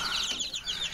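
Chickens on a poultry farm with a coop of chicks, clucking and squawking in a steady, close, busy flurry for about a second, with no talk over it.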